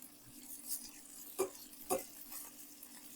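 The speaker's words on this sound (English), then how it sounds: "Nice sizzle." Chicken laid into hot clarified butter in a pan gives faint, quiet crackles and spits, with two small bursts standing out against a low hiss.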